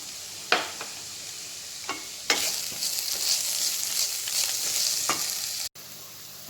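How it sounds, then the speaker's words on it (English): Onions fry in a pan with garam masala added, giving a steady hissing sizzle broken by several sharp scrapes and taps of a stirring spoon against the pan. "These onions have become light pink, so during this time you have to add the garam masala."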